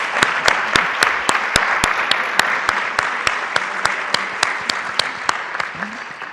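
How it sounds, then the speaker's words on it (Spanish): An audience claps in applause for the speakers at a debate on economic regulation of the pharmaceutical industry in Spain, with steady sustained clapping and a few sharper claps standing out across the whole stretch. "Os voy a pedir un aplauso para los ponentes"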